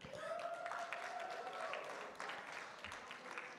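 Applause at the JTA Golden Torch Awards ceremony, a steady dense wash of clapping from an audience that carries on throughout, with a sustained tone and some voices mixed in.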